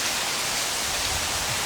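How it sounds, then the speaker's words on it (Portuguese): Heavy rain pours down in a dense, steady hiss with no let-up, close and loud, with no voices over it. "nós estamos aqui, ó, sentindo muita chuva"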